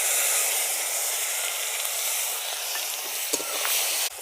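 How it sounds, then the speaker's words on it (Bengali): Dried chillies and whole cumin seeds fry in hot oil as a tempering for moong dal, a continuous close sizzle with a few stirring knocks near the end. "লঙ্কাটাকে ভেজে নিচ্ছি, ভেজে এর মধ্যে দিয়ে দেব ফোড়নের জন্য গোটা জিরে"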